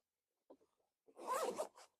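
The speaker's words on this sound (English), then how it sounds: "start your zipper" Zipper being pulled closed on a Pak A Yak AnglerFish kayak bag, a short soft tug followed by a louder, steady rasping zip of about half a second, then a brief final pull, close and alone.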